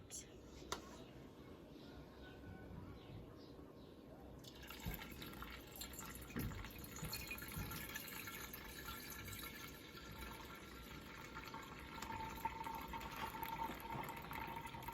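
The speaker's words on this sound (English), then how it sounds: "I'm just going to filter the milk through that" Milk runs steadily through a stainless steel coffee filter into a glass jar, giving a continuous trickling, filling sound under a speaking voice, with the flow growing fuller partway through.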